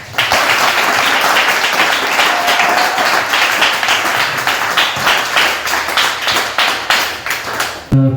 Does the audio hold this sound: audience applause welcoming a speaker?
yes